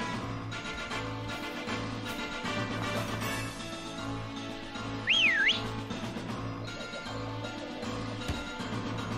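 Whistle from the Pokémon Sword and Shield video game, a quick rising-and-falling whistled tone heard once, clear over looping background game music, with no talk.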